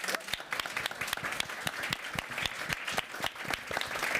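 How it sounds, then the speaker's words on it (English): A crowd applauds steadily after a panel discussion at Ukraine House Davos, many hands clapping in a dense, continuous patter at moderate distance. "Please join me in the round of applause."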